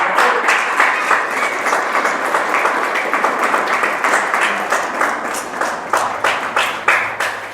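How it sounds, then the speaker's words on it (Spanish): A church congregation claps in sustained applause, dense and steady with sharper individual claps cutting through, loud and close throughout with no voices standing out. "Dale un aplauso al Señor"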